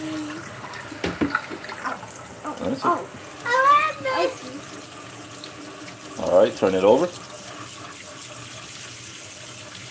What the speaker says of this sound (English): Pour the water out of the pitcher.